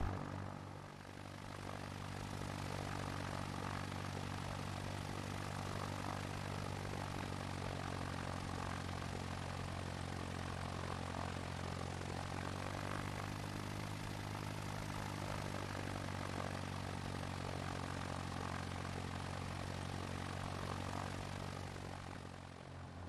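Steady, continuous drone of a Stinson light propeller aircraft engine in the X-Plane 11 flight simulator, a layered tonal hum with a constant pitch held throughout, heard alone with no voices.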